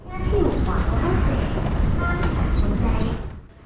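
A train rumbles into an underground station platform in Taiwan, a broad low roar with metallic screeches, echoing in the enclosed space before fading near the end.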